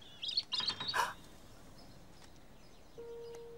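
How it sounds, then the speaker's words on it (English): A cartoon robin chirps in a quick burst of bright, high tweets, close and clear, then gives way to quiet background with a thin sustained tone near the end. "That's a robin, JoJo."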